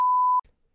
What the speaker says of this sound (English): Even though that was a beep